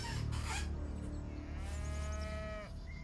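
A cow in a video game moos once in a long drawn-out call that falls in pitch, following a few earlier short rustling sounds, clear and close with no talk over it.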